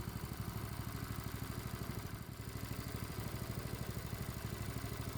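A Predator 212cc gasoline engine idles with a steady, rapid mechanical putter, an even clattering rhythm that holds throughout with no talk over it.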